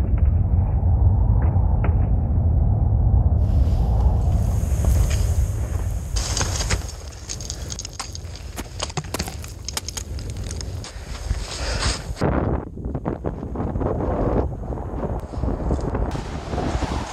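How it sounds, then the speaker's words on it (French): Outdoor wind buffets a phone microphone with heavy low roaring and crackling gusts that rise and fall, fairly loud and continuous, with a faint voice under the noise. "c'est très venteux"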